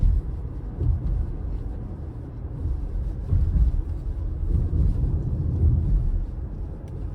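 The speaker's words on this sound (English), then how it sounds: "Right now that's the engine" A low, steady engine rumble from inside a moving 2023 Toyota Sienna hybrid minivan at about 30 mph, with road and wind noise and no talking.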